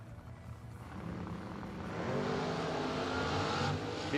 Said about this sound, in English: Couple of nice wheelie popping cars.